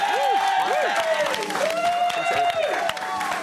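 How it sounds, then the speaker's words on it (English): Studio audience applause and cheering on a TV show, a dense steady wash of clapping with bright tonal music or stings rising over it throughout. "Give her a round of applause"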